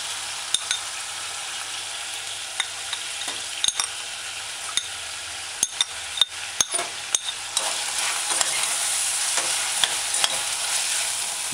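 Diced scallion stirred into a chicken callaloo stew frying in a pot, with a steady close sizzle broken by sharp scrapes and clinks of a utensil against the pot, no voices.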